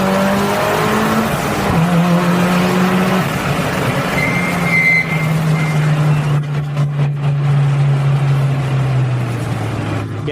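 A Mitsubishi Lancer Evo 9 accelerating hard from second gear, its engine note climbing loud and close, then holding a steady drone, with a brief higher whine partway through.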